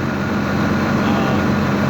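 A tractor engine idles steadily nearby with a low, even rumble and no change in pace.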